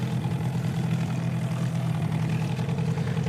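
A small old outboard boat engine idles steadily on a river while a boat searches for sunken cars, a constant low droning hum with no pauses or rev changes, fairly close and filling the scene on its own.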